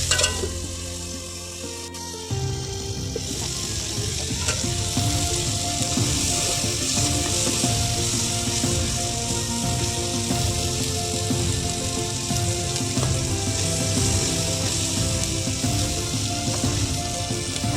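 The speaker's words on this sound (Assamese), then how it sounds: "আকৌ লৰাই দিছোঁ, ইমান ফুটিছে মানে ভয় লাগিছে।" Moong dal and potatoes fry in a pan with a steady, close sizzle and scattered pops that run continuously after a brief quieter start, with no talking.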